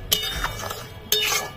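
A spoon stirs apple chutney made with jaggery and sugar in a pot, giving two quick metallic clinks and scrapes, close and soft.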